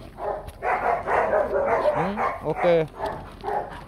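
A Rottweiler barks in short, loud bursts close by, with a few yips mixed in, while a person talks over and between the barks.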